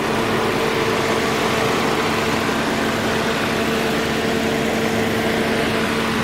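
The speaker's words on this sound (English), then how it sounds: "this is the engine, and as you can hear, it runs good, nice and quiet exhaust, quiet headers." A 2007 Hyundai Sonata GLS engine idles steadily with quiet exhaust and headers, a constant low hum with a faint tonal drone held evenly throughout, no talking.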